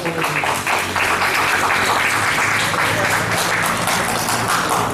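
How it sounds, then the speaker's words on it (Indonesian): Crowd applause at a press event for the Borneo Metal Camp annual metal music festival in Samarinda, East Kalimantan, a steady dense clapping wash that runs loud and continuous throughout. "Tepuk tangan teman-teman."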